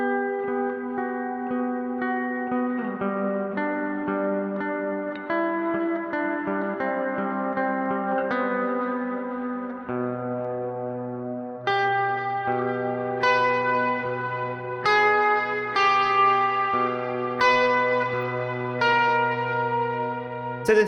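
Clean electric guitar with a spacey, wet ambient tone from a Quad Cortex, ringing chords and single notes with long reverb and echo tails and a sustained bass note joining halfway, played alone without talk.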